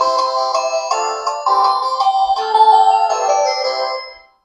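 A ringtone melody plays from the speaker of an Itel Power 700 keypad phone, a loud, bright series of repeating tones lasting about four seconds before cutting off, with no talking over it.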